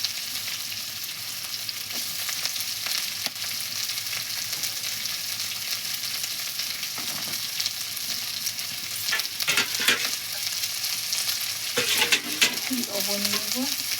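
Onions fry in a pan with a constant dense sizzle up close, joined by a few spoon clatters and stirring scrapes toward the end.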